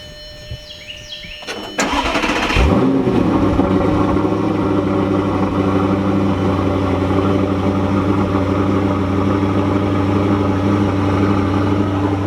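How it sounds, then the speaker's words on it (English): An Audi R8 V8 cold-starts close by: a brief starter whir, a sharp loud roar as it fires, then a high, steady, rumbling fast idle that holds to the end. "Alright, cold start. 5, 4, 3, 2, 1."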